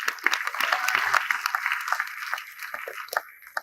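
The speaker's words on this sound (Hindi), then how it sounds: "एक बार हमारे अतिथियों के सम्मान में भी तालियां बजे आपकी।" Audience applause for guests at a Hindi comic poetry performance, a burst of mixed clapping and crowd noise that thins out toward the end, with some voices mixed in.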